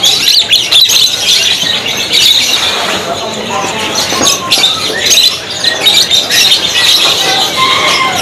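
F3 canaries in a bird shop chirping and twittering in a dense, busy chorus of many birds, steady and fairly loud throughout, with a person talking over them now and then.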